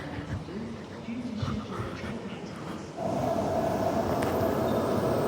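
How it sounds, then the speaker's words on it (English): Last train pulling into Perth station: quiet platform ambience with scattered sounds, then a steady loud rumble and a sustained whine as the train arrives. "here comes the last train now"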